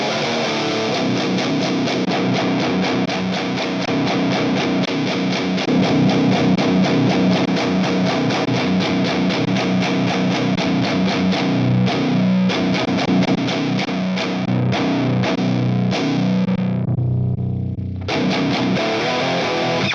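Heavy distorted electric guitar riffing through a Donner Arena 2000 multi-effects unit with an SM57 mic cab simulation, a dense, loud metal tone with fast chugging palm-muted rhythm, briefly pausing near the end before resuming.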